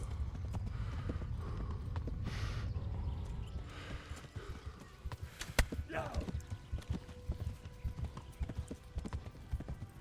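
Horse hooves clip-clopping at a gallop in Kingdom Come: Deliverance, a rapid steady rhythm of hoof strikes under a game soundtrack, with a brief whinny midway.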